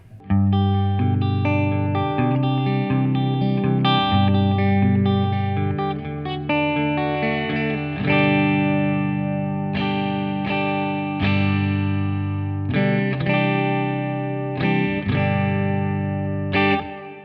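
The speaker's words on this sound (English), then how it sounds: "the modern one's more like a plate reverb" Electric guitar playing chords and single notes through a Keeley DDR pedal's modern plate-style reverb, a bright, smooth reverb tail washing behind each strum, steady and fairly loud throughout.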